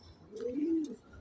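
Pigeons kept in a cage give a single soft, low cooing call lasting about half a second, close and clear against a quiet background with faint bird chirps.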